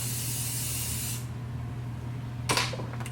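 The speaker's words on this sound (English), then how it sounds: "I'm gonna spray a lot of hairspray" A long hissing aerosol spray, close and loud, stops abruptly, then a second short burst follows over a low steady hum.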